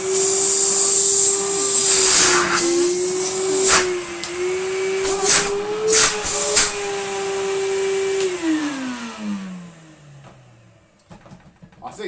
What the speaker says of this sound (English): this is what it sounds like now after a fan wash